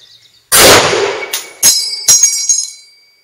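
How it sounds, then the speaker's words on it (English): Ejection of the M1 Garand rifle's steel en-bloc clip on the last round: a loud sharp crack followed by a few bright metallic pings and clangs ringing out close up over about three seconds. "when the clip ejects on the last round of the M1, it goes bing"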